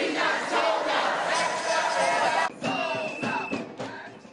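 A large crowd of protesters outside a Bank of America branch in downtown Los Angeles, roaring and chanting together in a dense, loud wall of voices that briefly dips and then continues.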